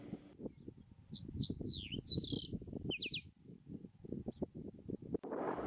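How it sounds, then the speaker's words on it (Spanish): Birds, including shiny cowbirds, chirp and whistle in quick bursts over a busy foreground of rustling and tapping at a large salt lagoon in Argentina, the calls clear and fairly near. "En los troncos resecos posan algunas aves, como los tordos renegridos."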